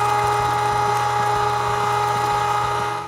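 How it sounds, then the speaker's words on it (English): Meat grinder running steadily as it grinds beef and pork together for sausage, a continuous mechanical whir with a rhythmic low grinding pulse, close and fairly loud, then it trails off at the end. "I'm gonna grind both the beef and the pork together"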